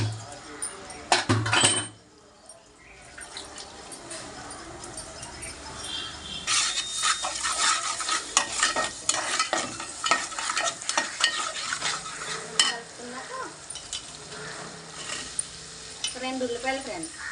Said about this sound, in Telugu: వంకాయ టమాటా వండుతున్నాను ఫ్రెండ్స్.